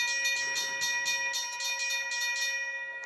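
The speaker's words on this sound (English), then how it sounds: "we got another BNSF train coming down the line" A BNSF freight train rolls past with a steady clanking rhythm of wheels over rail joints and a sustained ringing crossing bell tone, heard at moderate distance without talk.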